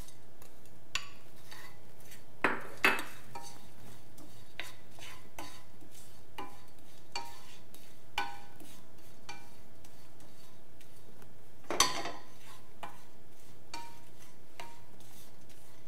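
Almonds go into a pan of toasted panko crumbs with soft scattered stirring scrapes and a few sharper clinks of utensil on pan, faint and close in a quiet kitchen.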